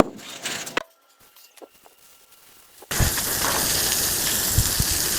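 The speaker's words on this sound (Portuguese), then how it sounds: "Vamos enxaguar." Water gushes and splashes steadily across a floor scrubbed with chlorine pool soap, a loud continuous rinse that starts abruptly after a few quiet knocks and drips.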